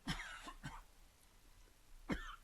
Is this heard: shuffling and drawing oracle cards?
no